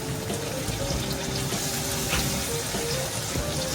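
Grated ash gourd and potato go into a hot pan for a Bengali chal kumro ghonto and sizzle steadily, a continuous close hiss and crackle with no talk.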